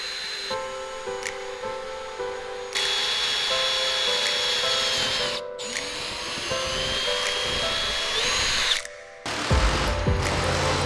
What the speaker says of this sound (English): But got my drill right here. We're gonna take out these rivets real quick